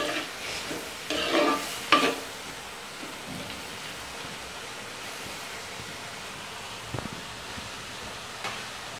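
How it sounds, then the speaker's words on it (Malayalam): Onions simmer and fry in tamarind water in a pan, a soft continuous bubbling hiss with a few stirring scrapes and clinks early on, otherwise steady and fairly quiet with no voices. "അപ്പം നമ്മൾ പുളിയൊക്കെ ഒഴിച്ച് ഉള്ളി നന്നായിട്ട് വഴന്നു വന്നിട്ടുണ്ട്"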